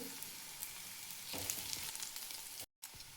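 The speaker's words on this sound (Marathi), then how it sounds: "लसणाच्या पाकळ्या टाकायच्या. तेलामध्ये भाजून घ्यायच्या. अद्रक टाकायची." Garlic cloves and ginger fry in hot oil for a Marathi rajma masala, making a steady, close hiss of sizzling that drops out for a moment near the end.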